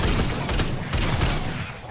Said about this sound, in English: The Riot shotgun is fucking horrible.